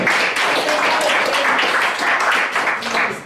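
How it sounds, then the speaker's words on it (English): An audience at a senior-community show claps for a long-married couple, a dense, steady burst of applause close by that carries on for several seconds before dropping off. "Give them a round of applause"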